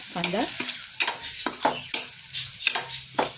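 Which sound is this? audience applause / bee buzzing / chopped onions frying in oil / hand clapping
chopped onions frying in oil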